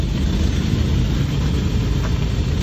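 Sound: Land Rover Defender engine while reversing

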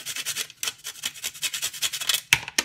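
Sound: grating whole nutmeg

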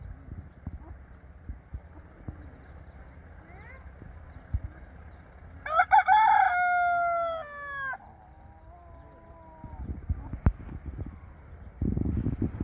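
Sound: rooster crowing

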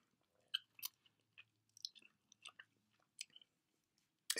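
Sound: biting and chewing a grapefruit

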